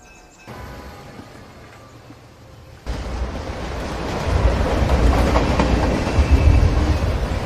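A train runs as heard from inside a carriage, first a faint hum and then a louder, steady rumble with rhythmic rattling of the wheels that builds over several seconds.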